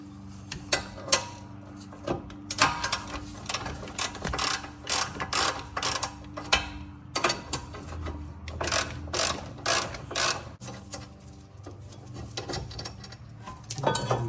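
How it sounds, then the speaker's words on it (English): A ratchet wrench loosens the 17 mm rear brake caliper bolts on a 2016-2021 Honda Civic, giving long runs of rapid, close metallic clicking in bursts with short pauses and a steady low hum beneath. "to take the caliper off, we need to open this bolt here, this bolt. Both of them are 17 millimeters."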